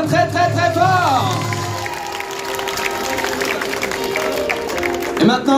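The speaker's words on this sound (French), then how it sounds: "On peut l'applaudir très très très fort." Audience applause and cheering from a crowd at a cosplay costume parade during a Japan pop culture show in St-Malo, steady and dense throughout, with a host's voice speaking over it.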